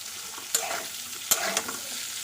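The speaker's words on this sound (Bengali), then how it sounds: "পেঁয়াজ দিয়ে একবার ভালো করে নেড়ে নেব" Bitter gourd, potatoes and onion frying in a pan give a steady soft sizzle, broken by a few sharp scrapes and knocks of a spatula as they are stirred.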